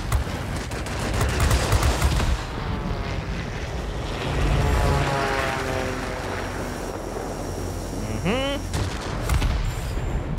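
Aircraft machine guns fire in rapid bursts during a World of Warplanes dogfight, a dense rattling chatter over steady propeller engine drone, with a falling whistle near the end.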